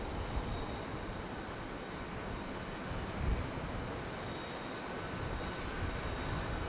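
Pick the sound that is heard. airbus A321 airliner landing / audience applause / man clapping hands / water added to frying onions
airbus A321 airliner landing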